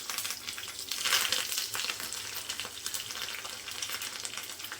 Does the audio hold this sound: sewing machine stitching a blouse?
no